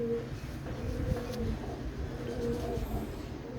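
A young Sialkoti pigeon coos in soft, low, repeated calls close by. The calls carry over a constant background hum.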